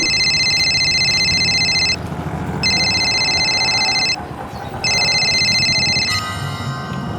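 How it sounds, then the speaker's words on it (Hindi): A telephone rings loudly in three long electronic bursts separated by short pauses, close and alone, with no talking. "फिर एकदम से अचानक मेरे पास निहारिका का फोन आ गया"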